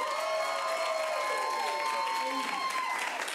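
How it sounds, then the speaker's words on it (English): Improv comedy audience claps as a vote for a movie to continue, a dense steady wash of applause with some cheering and voices mixed in, held evenly to the end. "if you'd like to see Jay's movie continue, please applaud now"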